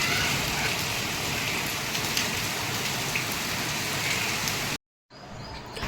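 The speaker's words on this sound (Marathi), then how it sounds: "मस्त असा पाऊस चालू आहे" Steady morning rain pours down in a dense, loud hiss with scattered drops hitting surfaces, continuing evenly before cutting off abruptly near the end.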